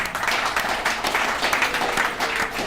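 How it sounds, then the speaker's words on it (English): A crowd applauds steadily at a recovery services alumni meeting, dense clapping sustained throughout with a few louder bursts, fairly close. "let's give Brandon another round of applause."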